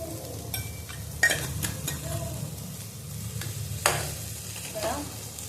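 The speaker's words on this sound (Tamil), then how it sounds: "பாருங்க, நல்லா வதக்கி விடுங்க." Food for chicken kurma sizzles in a hot pan while a spoon stirs and scrapes through it, with occasional clinks against the pan's side.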